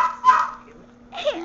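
A dog gives two short yips or barks, one at the start and another near the end, close by, with quiet background voices in a family setting.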